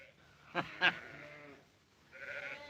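A sheep bleats a few times, two short sharp calls followed by a longer wavering bleat, fairly close against a quiet background.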